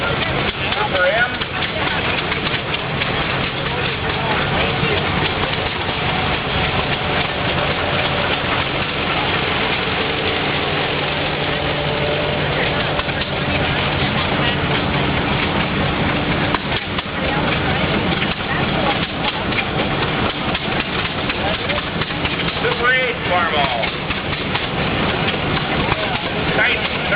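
A Super M tractor engine idles steadily through a parade, a continuous low rumble that stays at an even level for the whole stretch, with someone talking over it and crowd noise around.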